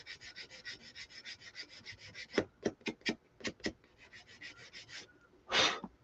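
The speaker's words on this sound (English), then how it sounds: "I'm just going to take a little nail file to it and see if I can sand some of that off." A nail file sanding a small car charm, with a run of quick, short rasping strokes, then a few slower separate scrapes and one longer rub at the end, close and faint.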